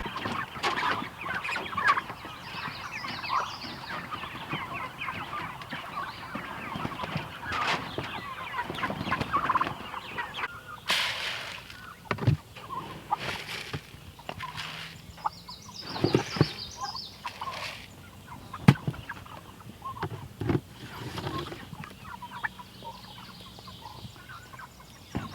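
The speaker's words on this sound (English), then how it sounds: "I gotta move the chickens and the turkeys." Chickens and turkeys on a farm, with scattered clucks and gobbles at moderate distance, irregular and fairly quiet over a soft outdoor background.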